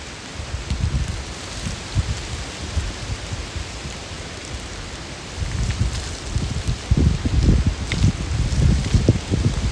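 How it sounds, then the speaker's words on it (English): Rain falling in Key West as Hurricane Milton approaches, a steady broadband wash with gusty, louder bursts building in the second half, with no voices. "It was supposed to not rain until 5."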